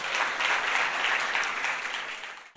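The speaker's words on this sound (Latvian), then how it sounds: "Dod skaists aplauss." An audience claps steadily, a dense even wash of applause at a lecture that holds for a couple of seconds and then stops abruptly.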